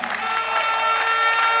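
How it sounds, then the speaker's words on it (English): An audience claps and cheers at a political party manifesto launch in Ghana, a dense wash of applause sustained through the short moment, with a faint tonal hum beneath. "Keep clapping, ladies and gentlemen."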